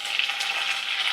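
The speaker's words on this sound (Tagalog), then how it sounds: "Saute all together." Squash sautéing with fish sauce in a hot pan at home, giving a steady close sizzle and crackle with no talking.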